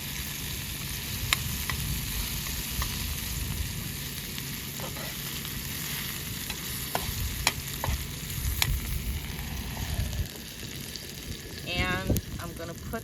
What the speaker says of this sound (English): got it to a nice saute.